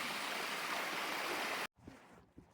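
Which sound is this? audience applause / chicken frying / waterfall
waterfall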